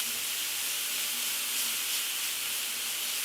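Minced garlic sizzling in a hot skillet, a steady, loud hiss of frying that holds without a break.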